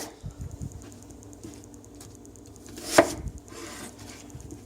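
A knife slicing through food on a cutting board, with one sharp loud chop in the middle among softer scattered taps and scrapes, close up and without talk.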